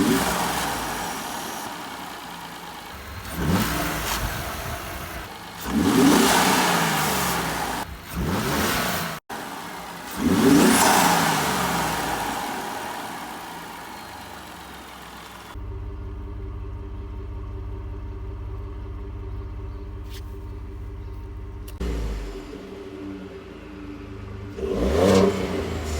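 A car with a stock airbox intake revs up in several loud, rising bursts, then drops to a steady low idle hum before a final short rev at the end.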